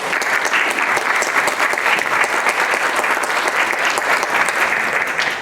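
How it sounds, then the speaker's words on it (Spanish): Loud, sustained applause from a forum audience in Lima, dense clapping filling the room evenly without a break. "a quien recibimos con un fuerte aplauso"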